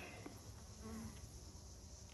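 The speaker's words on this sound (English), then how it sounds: "Lots of bees on this one." Honeybees buzz on a beehive frame, a dense, faint, steady hum of many insects up close with no talk.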